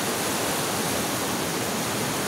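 Strong rushing river water roars steadily and close, a dense broadband wash with no pauses and no voices.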